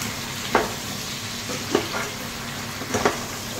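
Crabs frying in a pan give a steady close sizzle, while a utensil stirs them in three short scraping strokes spaced roughly a second apart.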